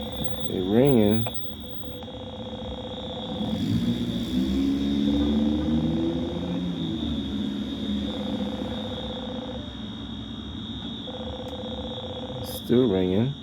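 A police assistance call box phone at the Roxbury Crossing station rings in a repeating pulsed pattern under a constant high electronic whine, with people talking over it and a fire alarm going off in the background.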